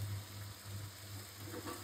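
Mixed vegetables going into a pan of sizzling spiced masala for a vegetarian shidol shutki recipe, giving a soft, brief frying hiss over a low steady hum.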